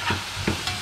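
Pieces of free-range chicken are stirred as they fry in a pot, giving three short scraping strokes over a steady sizzle, close up and with no talk.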